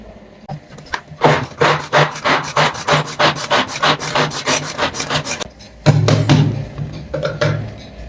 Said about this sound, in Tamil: அதனால சாப்பரில் போட்டு 2 இன்னும் இழுத்தா போடுவோம்.